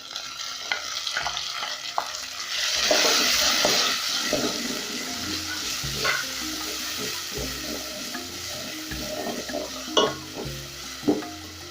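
Chopped tomatoes and onions sizzle and fry in a pan while being stirred for vegetable rice with beef, with scraping spoon strokes and a steady hiss close by, a couple of sharper knocks near the end.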